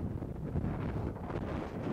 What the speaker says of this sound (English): God, look at the wind.